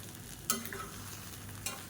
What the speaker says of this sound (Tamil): அமர்த்தி விட்டு மறுபடியும் ஒரு மிக்ஸி கொடுத்துடலாம்.